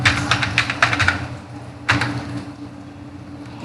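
Close, crisp tapping on a computer keyboard while code is written, a rapid run of keystrokes at first, then a pause and a second short burst.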